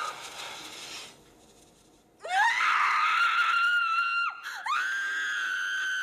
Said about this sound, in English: the first thing she does is scream in his face